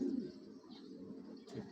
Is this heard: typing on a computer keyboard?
no